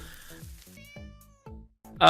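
In a Trump-themed mobile game, a cat gives a series of short, close meows with falling pitch, repeated several times, ending in a burst of louder game noise.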